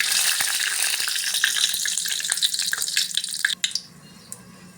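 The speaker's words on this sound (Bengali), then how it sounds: "তেলের মধ্যে তেজপাতা জিরা শুকনো মরিচ দিয়ে দিলাম" Bay leaf, cumin seeds and dried chili sputtering in hot oil, a loud, close, steady crackling sizzle with sharp pops that drops off abruptly near the end, leaving a quieter hiss.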